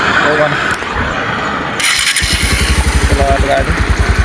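A motorcycle engine cranks and catches, then settles into a loud, close, throbbing rhythm as the bike pulls away for an early-morning ride, with a voice briefly speaking before it starts.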